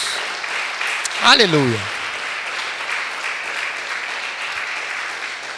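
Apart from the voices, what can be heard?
congregation applauding in church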